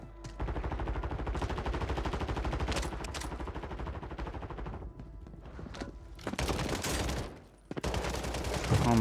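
Rapid shotgun and automatic gunfire in Warzone 3, loud and close, a dense string of shots with brief pauses and sharp bursts near the end, with a voice faint under the shooting.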